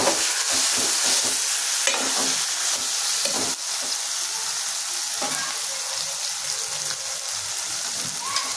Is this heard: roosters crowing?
no